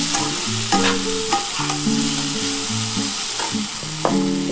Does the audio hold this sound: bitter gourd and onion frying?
yes